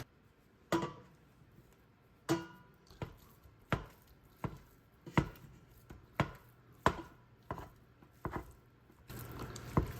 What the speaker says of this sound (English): While the turkey was browning, I diced a large yellow onion